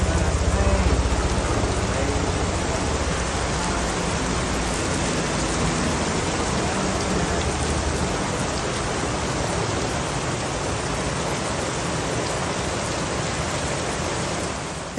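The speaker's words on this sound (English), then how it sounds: "Here we are in the rain." Rain pours down at a Florida resort area, a loud, unbroken wash of broadband hiss that stays level throughout and dominates everything near the recorder.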